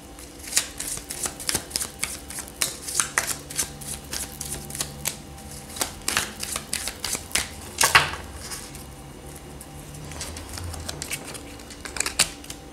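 Tarot cards shuffled and drawn by hand, a close series of quick papery riffling and flicking bursts in an uneven rhythm, with a few sharper slaps toward the end and no talking.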